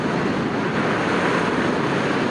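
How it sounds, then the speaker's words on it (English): Loud, steady wind rush roars without a break while riding a Zero SR electric motorcycle at high speed, a dense broadband buffeting with no engine note. "There's a hell of a lot of wind"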